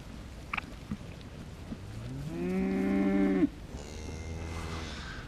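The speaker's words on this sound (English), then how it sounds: "a beautiful Pole Dawson sheep" A Poll Dorset sheep lets out a long, loud, drawn-out bleat that sounds almost like a moo, then a second fainter call, close by at a farm with light background noise and no talk.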